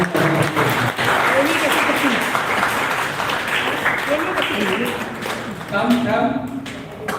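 Audience applause for the finalists at a Malaysian crowdsourcing reveal event, loud and sustained throughout, with voices and chatter mixed in among the clapping.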